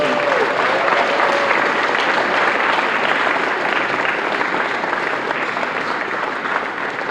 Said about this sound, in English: I would be remiss if I didn't ask us all to give a round of applause to that group